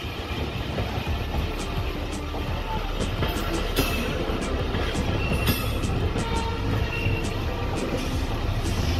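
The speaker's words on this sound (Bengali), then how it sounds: "ঢাকা মাওয়া রোডের এই ট্র্যাকগুলো কিন্তু নতুন বসানো হয়েছে, যার ফলে এখান দিয়ে যখন ট্রেন চলে প্রচণ্ড জোরে আওয়াজ হয়" A train runs loudly over newly laid track on the Dhaka–Mawa line, a continuous heavy rumble with rattling wheel noise heard from inside the carriage, with faint voices mixed in.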